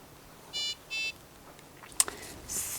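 A syringe driver pump beeps while its information button is held: two short, even tones in quick succession, then a brief click and a faint higher chirp, all quiet in a still room.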